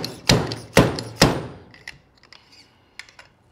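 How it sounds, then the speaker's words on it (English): A seal driver tapping a fork dust cover into place on an MV Agusta F4 1000 fork: three sharp, evenly spaced metallic knocks up close, followed by a few faint light taps and clinks. "you can also use the driver as well to put our dust cover back into position"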